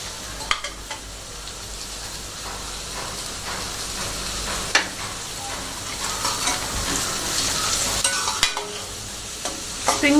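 Spring onions are stir-fried into vegetable fried rice, with loud continuous sizzling and frying hiss under steady stirring and scraping strokes, close up and without speech.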